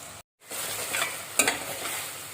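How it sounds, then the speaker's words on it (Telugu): Three small chopped tomatoes fry in hot oil in a pan, a steady loud sizzle broken by a brief silent gap, with stirring scrapes and a sharper clatter near the middle; no voices. "ఇదే ఆయిల్లో ఒక మూడు టమాటోల్ని చిన్నగా కట్ చేసి వేసుకుంటాం ఈ టొమాటోల్లో నీరు కొంచెం ఎగిరే వరకు వీటిని కలుపుకుంటూ వేపుకోవాలి"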